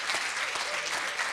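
Dense, loud audience applause at a lecture event, a continuous wash of many hands clapping at once with no gaps for the whole moment.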